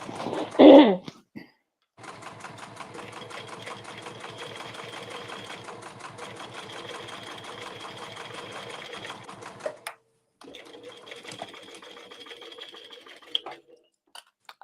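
A sewing machine stitches an emo circle bag, running in a fast, steady mechanical patter for several seconds, pausing briefly, then running again, heard close; a short louder knock comes first.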